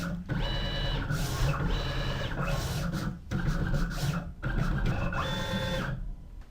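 A vinyl cutting machine cuts magenta glitter vinyl, giving close whirring carriage runs and scratchy blade passes in repeated bursts separated by short pauses, with no voices.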